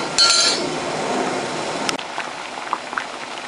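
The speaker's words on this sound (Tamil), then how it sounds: "ஒரு 2 நிமிஷம் கொதி வந்தால் போதும்." Sambar with salt and asafoetida simmering in a pot, a steady bubbling hiss with a louder burst at the start and a few soft clinks near the end.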